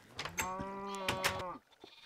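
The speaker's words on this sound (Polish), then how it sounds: "Tutaj mamy owce." Sheep bleating on a farm in a Minecraft-style video game, a couple of drawn-out wavering bleats close by, alone with no talk, ending in quiet.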